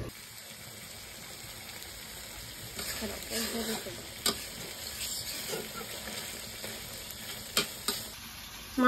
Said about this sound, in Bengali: মাংস কষানো শেষ,